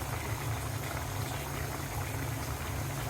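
A pot of hilsa fish curry with potato and vegetable stems boils vigorously, giving a steady close bubbling and gurgling that continues without a break and with no talk.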